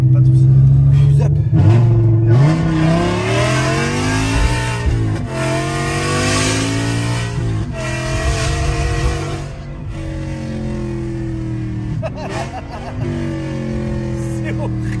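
A Tesla car with its exhaust valves open accelerates, a loud sustained engine roar rising in pitch with revving surges, while people talk over it inside the cabin.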